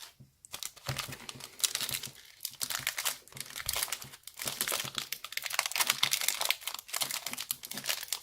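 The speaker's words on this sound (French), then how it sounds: "J'ai vraiment du mal à ouvrir ces boosters." A Tokorico-GX trading card booster pack is torn and worked open, giving loud, close, irregular crinkling and ripping of foil packaging in repeated bursts, with short pauses between them and no talk.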